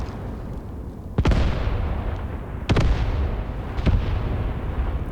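8 cm mortar rounds striking a village in the video game Graviteam Tactics, three distant booming impacts about a second and a half apart, each with a rumbling tail over a low steady background.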